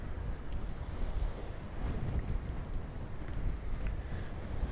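Gusty wind at a harbour by coastal dunes buffets and rumbles against the microphone in a low, steady roar, with no voices present.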